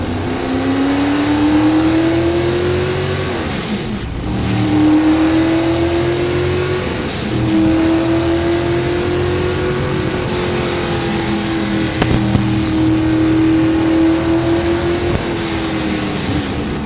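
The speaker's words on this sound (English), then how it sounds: "why don't we listen to the sound of a beautiful McLaren M6A" A McLaren M6A Can-Am race car with a Chevrolet V8 roars loudly and close, its engine note climbing through repeated upshifts with brief dips between gears, continuous with no talking.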